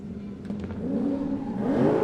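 Drift cars idling and revving on the start line at a drifting championship qualifying round in a stadium, a low steady engine drone that rises into a louder climbing rev near the end.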